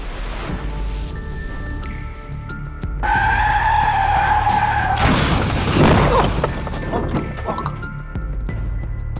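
A drifting car's tires squeal loudly in a long, wavering skid caught from a dashcam, followed by a rougher scraping burst amid road and engine noise.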